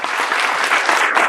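Audience applause after a speech at a global health leadership event, a dense steady wash of clapping from a large crowd filling the whole moment without pause.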